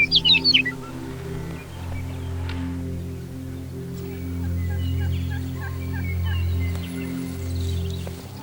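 Wild turkeys gobble in a rapid, rattling burst at a distance in the woods, followed by scattered chirps of small birds over a steady low hum.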